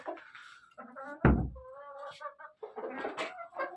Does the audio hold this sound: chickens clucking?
yes